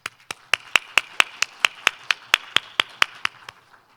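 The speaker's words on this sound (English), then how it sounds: "Please welcome Dr. Zen with a big round of applause." Sparse, evenly spaced claps ring out at a regional connectivity forum session, about fifteen crisp, close hand claps in a steady rhythm that fade toward the end, with no crowd swell.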